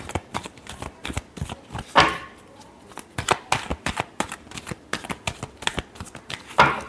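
Tarot cards are shuffled by hand in quick, crisp riffles and flutters, close and loud, running steadily with brief louder snaps throughout.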